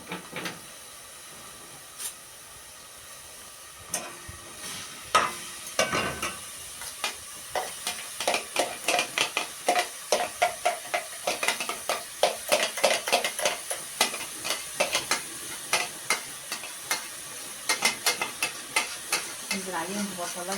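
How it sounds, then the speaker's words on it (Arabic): A large chopped onion frying in butter in a pan, with a soft sizzle under repeated scraping and clinking stirs of a utensil against the pan, rhythmic and close. "هنحط حتة زبدة وهننزل عليهم ببصلاية كبيرة"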